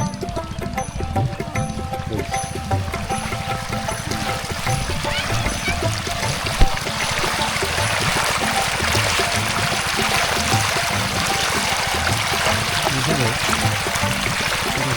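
Pump-fed irrigation water gushing steadily onto a vegetable field of kohlrabi and cauliflower, a loud continuous rushing pour heard close by under people talking.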